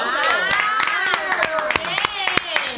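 A small audience claps at a talk, a sparse run of distinct hand claps at irregular intervals with a voice speaking over them.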